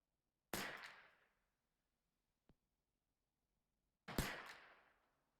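Two sharp .22 rifle shots from a 10/22 firing CCI ammunition at 50 yards, spaced about three and a half seconds apart, each a crisp crack with a short decaying tail, plus a faint click between them.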